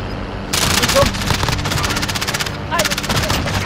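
Rapid automatic gunfire in the Warzone video game fires in two loud sustained bursts, with a short pause between them.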